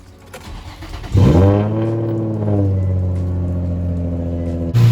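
A Nissan G35 engine with new spark plugs and ignition coils turns over and starts, then runs at a steady, humming idle nearby, with a brief rise in revs partway through.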